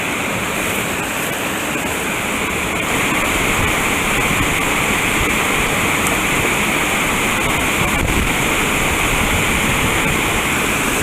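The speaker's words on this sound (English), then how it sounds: "I'm pretty sure this is the falls I was thinking of." A waterfall in Chautauqua Gorge roars close by, a steady, dense rush of falling water that fills the whole stretch without a break.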